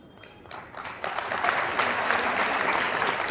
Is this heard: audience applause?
yes